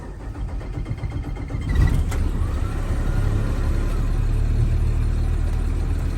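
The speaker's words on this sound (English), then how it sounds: "I'm going to start this vehicle up." A passenger vehicle's engine is started during a pre-trip inspection, a short cranking burst followed by a steady, rising rumble that settles into a continuous close idle.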